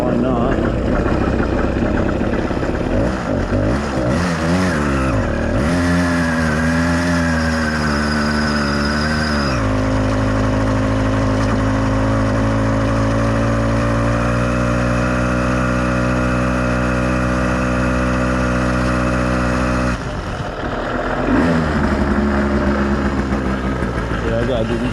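An 85cc iron-sleeve motorized bicycle engine sputters, catches and starts, then revs and settles into a steady, buzzing drone as the bike rides along, with a voice heard at moments.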